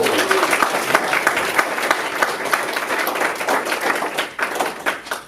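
A small audience gives a round of applause for a team member, a U.S. Marine, at a house-flipping and modular construction presentation: brisk, close clapping that stays dense and steady throughout.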